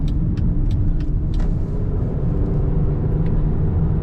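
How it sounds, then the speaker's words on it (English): A 2002 Chevrolet Monte Carlo SS Dale Earnhardt Intimidator Edition drives steadily, its engine giving a continuous loud low rumble with road noise and a few faint ticks above, and no talk. "driving a 2002 Chevrolet Monte Carlo, the Dale Earnhardt Intimidator Edition."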